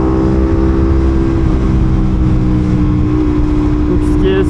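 A small-engine motorcycle accelerates well past the speed limit, a loud steady engine drone with a held low tone close to the microphone throughout.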